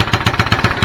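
A tractor engine running at a tractor pull, loud and close, with a steady rapid pulsing beat of about seven or eight chugs per second and no voices over it.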